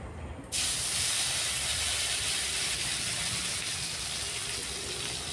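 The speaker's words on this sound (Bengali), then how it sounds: "এবার ওই তেলের মধ্যে ফোড়নে দিয়ে দিলাম 5 ফোড়ন, আর কুচিয়ে রাখা টমেটোটা দিয়ে দিচ্ছি।" Panch phoron and chopped tomato hit hot oil with a sudden loud, steady hiss that starts half a second in and holds, continuous and close.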